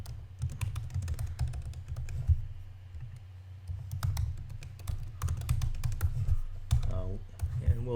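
Code being typed on a computer keyboard, fast irregular clicks in bursts with short pauses, close and moderately loud, and a voice briefly speaking near the end.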